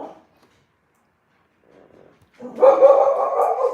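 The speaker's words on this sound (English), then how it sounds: "Sorry for the noise if you hear loud barking." A dog named Ray barks indoors, a brief faint yip first, then a loud sustained run of barking and whining close by near the end.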